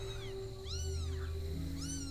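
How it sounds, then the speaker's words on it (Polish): Newborn kittens found in a mesh bag of rubble give high, thin meows, about three rising-and-falling cries close by over a steady low hum, with no talking. "Trzy koty w siatce z gruzem."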